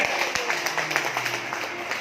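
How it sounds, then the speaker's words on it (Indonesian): Seminar attendees clap in loose, fairly close bursts, a smattering of hands rather than a roaring ovation, with a voice sounding faintly through the applause. "Luar biasa, tepuk tangan sekali lagi."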